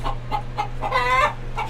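Hen clucking close up after laying an egg, a quick series of sharp rhythmic clucks building to a longer, drawn-out squawk, with a low steady hum underneath.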